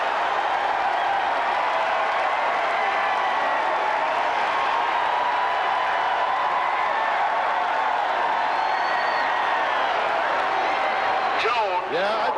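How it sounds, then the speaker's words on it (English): A packed football stadium crowd at the 1996 Auburn vs Ole Miss game roars in a loud, sustained, even wall of noise. "Listen to this crowd."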